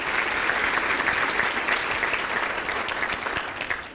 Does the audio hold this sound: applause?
yes